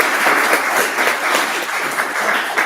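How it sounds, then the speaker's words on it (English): Audience applause for an invited guest at a conversation event, a dense, steady clapping that fills the room at close range throughout, with no voices over it. "Maybe a round of applause for Jonathan."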